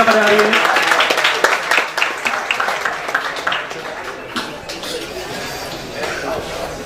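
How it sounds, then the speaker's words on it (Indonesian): An audience applauds four speakers at an Indonesian discussion event, a dense patter of clapping that fades gradually, with voices talking over it. "Boleh tepuk tangan teman-teman untuk keempat pembicara kita pada hari ini."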